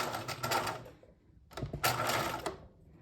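A sewing machine runs in two short rapid bursts while stitching a bias binding flap onto a backpack, close and clear, with a brief gap between them.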